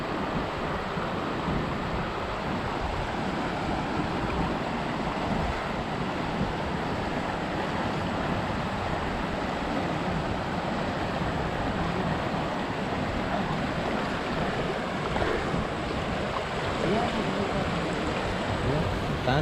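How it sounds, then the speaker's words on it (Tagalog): A strong river current rushes in a broad, steady roar, loud and close with wind buffeting the microphone, continuous throughout with no letup. "Tingnan mo, grabe oh. Lakas ng agos."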